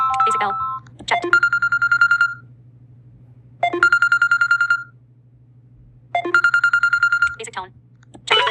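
Samsung's Basic bell ringtone plays three times in a row, each time a bright, ringing burst of electronic bell tones lasting about a second. A steady low hum runs underneath, and there is no talking.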